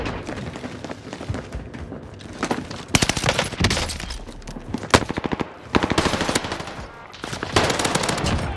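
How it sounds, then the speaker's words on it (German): Bursts of automatic gunfire from a Warzone Rebirth Island firefight, loud rapid volleys in several clusters with short pauses between. "der schießt doch auf mich"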